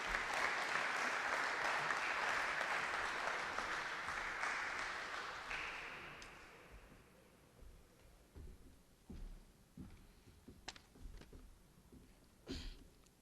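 Applause for the 2022-2023 graduates at a graduation ceremony: a sustained round of clapping from the audience that fades after about six seconds into scattered claps and soft room sounds.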